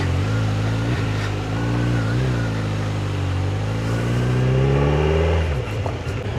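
A Kawasaki Z900 motorcycle engine descending the Charmadi ghat during a monsoon ride, a loud, steady engine drone with rising and falling pitch as the revs shift, and a sharp drop in revs near the end.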